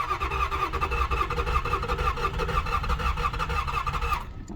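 A 1983 Chevrolet Celebrity diesel engine cranking, a steady loud rhythmic churning that holds for about four seconds and then cuts off abruptly.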